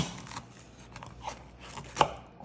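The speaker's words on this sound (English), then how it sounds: "Oh, do you hear that crunch?" A butter knife cuts through a crunchy baked cornflake dessert, giving a faint scraping crunch with a brief louder crackle near the end, close and alone without talk.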